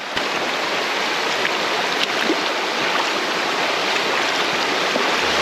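Loud, steady rushing of a shallow Alaska river tumbling over slimy rocks, a continuous close babble with no pauses.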